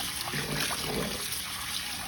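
Raw sea moss being rubbed and rinsed by hand in a bowl of sandy, salty water, giving a close, continuous sloshing and trickling wash for about two seconds with no talking.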